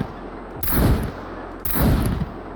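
Two loud bursts of rapid automatic gunfire in the survival video game SCUM, each about a second long and separated by a short lull, with no talk over them.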